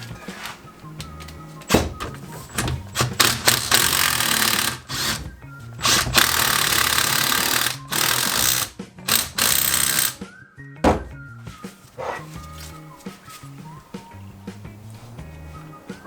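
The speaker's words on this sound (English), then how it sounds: "you can use your impact or your wrench to put that back on there" An impact wrench tightens a nut on the suspension of a 2012 Ford Transit Connect, giving loud, rattling power-tool bursts of a second or two, separated by thuds and quieter gaps in a garage.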